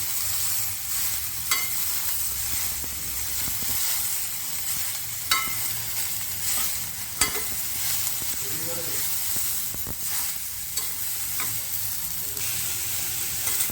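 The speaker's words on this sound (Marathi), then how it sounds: "आणि जे आपण पडवळ जे चिरून ठेवले ते आपण याच्यामध्ये टाकूया परतून घेऊया" Chopped snake gourd stir-fries in a pan with a steady, close sizzle. Scattered knocks and scrapes from stirring sound throughout.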